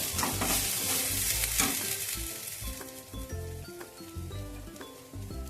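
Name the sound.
stirring fried rice with salt in a pan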